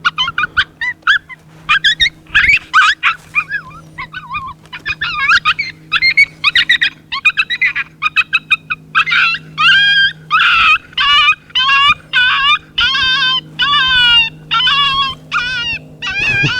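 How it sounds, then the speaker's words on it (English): A coyote pup distress call plays from an electronic predator caller at medium volume: repeated high, wavering yips, whimpers and howls in quick bursts, loud and close, with no talking over it. "that right there is the Coyote Pup Distress number 3"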